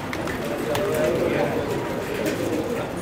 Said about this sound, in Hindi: ये देखें व्यूअर्स कैसे गूंज रहे हैं सारे कबूतर.